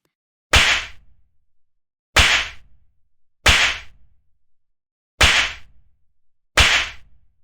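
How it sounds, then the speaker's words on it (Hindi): Five sharp slaps to the face land one by one at irregular intervals of about a second, each a loud crisp crack that quickly dies away into silence. "अब तो सारी लड़कियां थप्पड़ मार के चली गईं"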